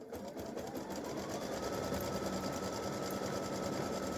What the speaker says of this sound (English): So I will stitch color stock 12 just because.